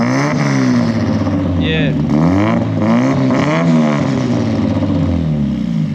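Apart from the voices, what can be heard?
Nissan S15 car engine revving with loud modified exhaust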